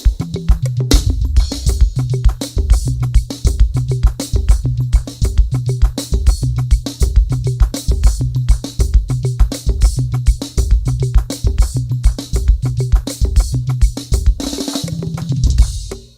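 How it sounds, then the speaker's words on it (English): A full drum kit plays a steady, busy groove with kick, snare and cymbals, tom fills rolling in near the end, loud and close. "So when we're to switch from normal groove to just the drums"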